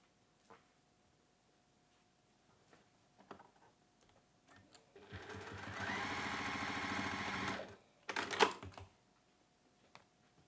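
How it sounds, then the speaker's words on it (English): A sewing machine closes the turning gap of a fabric pouch in one steady three-second burst of whirring, framed by quiet handling clicks and taps before and after. "then we're going to sew up that turning through gap"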